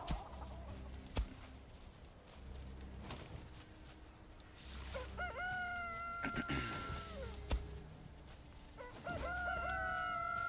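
Chickens and a rooster in a farming video game: loud crowing rises twice against soft clucking and a low rhythmic background, with sharp clicks scattered through.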